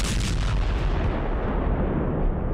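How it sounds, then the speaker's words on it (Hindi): A loud, sustained explosion roars from a Ukrainian strike on a Russian warship at Sevastopol, Crimea, at night, a dense rumbling blast that fades slightly toward the end. "एक धमाका और बड़ी तबाही।"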